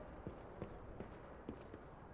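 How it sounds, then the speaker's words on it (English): Enemy footsteps in Lies of P, a series of about five soft, evenly spaced thuds from somewhat below and off at a distance, over a low ambient bed. "it's the footsteps of one of the enemies down there"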